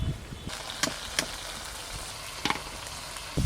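Chicken pieces fry in hot oil in a home kitchen pan, a steady hiss broken by a few sharp scraping strokes as the spatula stirs them, close and moderately loud, with no talking.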